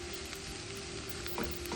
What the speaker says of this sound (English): Continue to mix these around until they're sauteed to your liking.